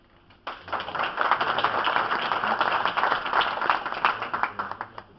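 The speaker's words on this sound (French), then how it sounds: "Déjà, il faut l'applaudir" Audience applause at a Cambrai andouillette brotherhood chapter gathering, a dense burst of many hands clapping that starts abruptly and holds steady for several seconds before thinning toward the end.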